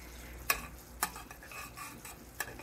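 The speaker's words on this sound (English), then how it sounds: "we've got it boiling here. We're just gonna let it boil for about 3 minutes. I'll occasionally stir it so it doesn't stick to the bottom" A spoon stirs boiling candy syrup with margarine in a pot, giving a few sharp scraping clinks against the pot amid a soft bubbling simmer, fairly quiet with no talking.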